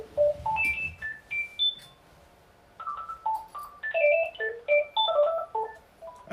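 A phone ringtone plays for an incoming caller on a political call-in show: quick melodic runs of bright electronic tones, a brief pause near the middle, then another busy run, fairly loud with no talking.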